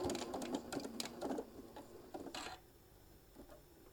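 A sewing machine stitches a small travel case for a mini iron in quick rhythmic bursts, running steadily for about a second and a half, then pausing before a short final run. The stitching is close and fairly quiet, with no talk.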